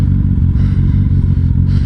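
A motorcycle rides along a city street near Logan Avenue, its engine giving a steady, loud, close rumble with some light clatter throughout and no talking.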